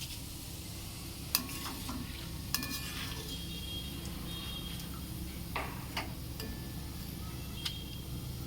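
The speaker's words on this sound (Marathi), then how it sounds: "ह्यात आपण पोह्याच्या चिवड्या टाकतो" Poha flakes tossed into a pan and stirred while making chivda, a crisp Diwali snack: a steady low sizzle of oil runs throughout, broken by a few sharp utensil ticks and scraping strokes against the pan.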